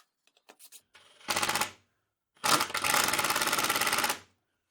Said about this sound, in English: drive screws in from behind